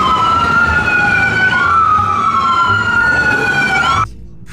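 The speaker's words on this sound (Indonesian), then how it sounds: "Kita menemukan ambulans." A loud wailing ambulance siren sweeps up and down in pitch close by, then cuts off abruptly near the end, leaving quiet traffic rumble.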